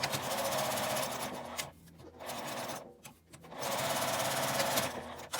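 A sewing machine runs along the fabric edges of a zipper pen case, a close, steady mechanical whir of stitching that stops briefly twice before running on again.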